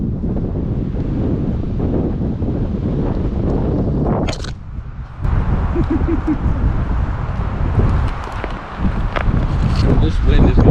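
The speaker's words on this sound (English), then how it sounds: "This wind is going to kill us." Strong gusty wind roars across a high-country backpacking camp near Vogelsang in Yosemite's High Sierra, buffeting continuously and loudly with a brief lull midway before surging again, with a voice speaking over it.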